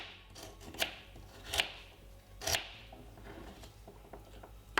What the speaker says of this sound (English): Cut up 2 medium-sized carrots.